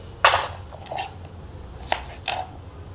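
A knife chops water apple into pieces for pickle, giving four sharp, separate cutting strikes spaced irregularly over a few seconds, close and fairly quiet, with no talk.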